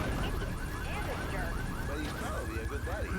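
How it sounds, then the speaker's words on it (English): A car alarm wails in Grand Theft Auto III, its rising and falling electronic siren tones overlapping with other street noise and game sounds, loud and continuous for the whole stretch. "Who the fuck cares about the car alarms?"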